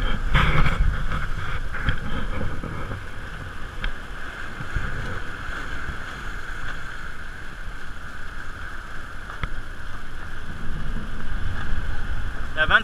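Strong wind of about 25 knots roars and buffets the microphone on open water during an ocean sailing race, with rushing noise from the sea and boat and occasional muffled voices.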